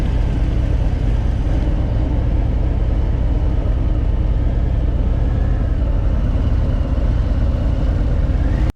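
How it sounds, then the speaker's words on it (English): Steady, loud low rumble of a 2023 Harley-Davidson Fat Boy 114 motorcycle engine, heard close and continuous without speech. "So here I'll calm down the sound of the motorbike"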